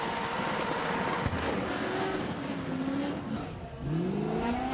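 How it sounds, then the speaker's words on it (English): Race car engines at a speedway event, a loud continuous roar with rising revving sweeps toward the end, heard near and unbroken throughout. "Awesome engine note on this. You can hear it."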